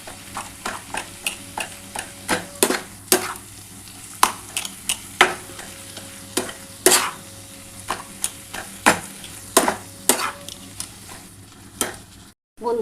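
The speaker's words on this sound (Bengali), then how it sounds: "এবার এটা খুব ভালো করে কিন্তু আলুটার সাথে নাড়াচাড়া করতে হবে।" A spiced potato filling for egg chop is stirred in a pan, a spatula scraping and knocking in steady repeated strokes over a soft sizzle, loud and close with no one talking.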